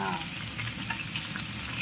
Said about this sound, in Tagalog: Naka-straight yung isda na ipiprito guys.